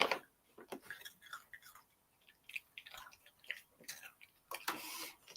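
A dog crunches crunchy travel treats up close, a quick run of sharp, irregular crunches and chewing clicks with brief pauses, with no talking.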